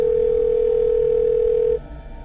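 A steady telephone dial tone plays loud and continuous, then cuts off sharply near the end, leaving only a faint low background hum.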